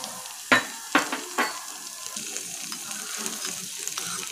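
Ginger and garlic paste fries in a pan for prawn cutlets, opening with a few sharp bursts of sizzle and spatula clatter that settle into a low, steady frying hiss under light stirring.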